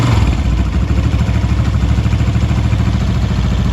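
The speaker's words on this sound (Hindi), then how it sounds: "अभी हम बाइक को स्टार्ट करते हैं" Honda CG125 motorcycle engine running steadily right after starting, a loud, close, even putter with mechanical clatter and no voices.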